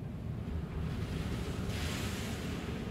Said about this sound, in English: It's getting quite loud. Those waves.